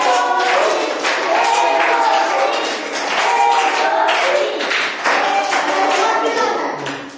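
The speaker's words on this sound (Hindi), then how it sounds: "एक साथ ताली बजाओ।" A group of children clap their hands together in unison during a play-based classroom activity, repeated bursts of claps close by with an adult voice talking over them.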